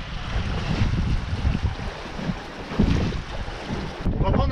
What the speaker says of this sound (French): Ça bouillonne la mer là.